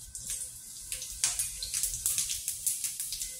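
Cumin seeds tempering in hot oil for a brinjal curry: crisp, crackling spits and pops over a soft sizzle, quiet and close, with no voices.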